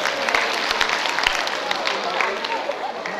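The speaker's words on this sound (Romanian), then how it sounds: "Aplauze, vă rugăm frumos!" Applause from the audience at a high school freshman ball contest in Focșani, a loud, busy crowd clapping with scattered voices mixed in, steady for the whole moment.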